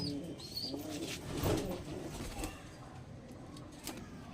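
Lalsera pigeons cooing and calling close by while being released, with soft chirps and a brief flutter of wings over a steady noisy background.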